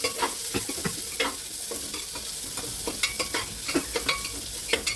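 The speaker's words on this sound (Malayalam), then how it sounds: "ഇനി നമുക്കതിലേക്ക് സവാള ചോപ്പ് ചെയ്ത് ഇട്ട് കൊടുക്കാം" Chopped onion hits a hot pan for tomato rice and sizzles steadily, with sharp stirring scrapes and clicks of a spoon against the pan, close and moderately loud.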